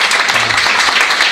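Dense, steady audience applause for the microphone operator fills a hall, loud and continuous throughout.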